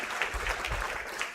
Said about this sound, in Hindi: तालियां भी बज चुकी हैं